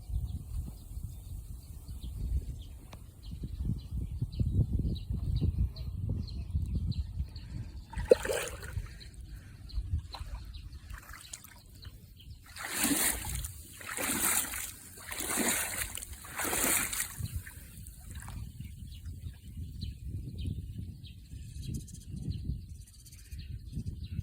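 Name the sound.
wading through knee-deep rainwater in a flooded field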